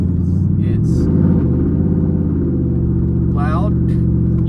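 Interior of the truck Big Betty while driving, a loud, steady low engine and road rumble throughout, with a voice talking over it.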